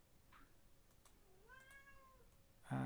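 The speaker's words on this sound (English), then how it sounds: "That is my cat. You can hear meowing." A cat meows softly a couple of times in a quiet room, with light clicks, then a sudden loud clatter at the end.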